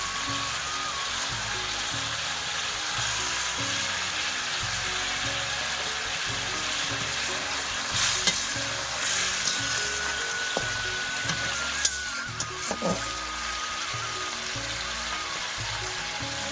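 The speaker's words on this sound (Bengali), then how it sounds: "জলটা ভালোভাবে ফুটিয়ে নিয়েছি, একটু গাঢ় গাঢ় হয়ে গেছে। এর মধ্যে দিয়ে দিচ্ছি ডিম।" Egg curry bubbling and sizzling steadily in a pot, a dense continuous frying hiss with occasional louder pops and light stirring clinks near the end.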